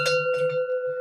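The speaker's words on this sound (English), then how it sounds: "If you have a bell like this one, okay, come on, yeah, or you can do it this way." A small hand bell, used to clear energy in a house, rings close with a clear metallic tone, struck a few quick times in succession with a ringing sustain between strikes.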